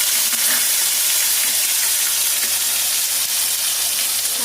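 Dried chilies frying in hot mustard oil in a kadai, a loud continuous crackling sizzle that holds steady throughout with no talk.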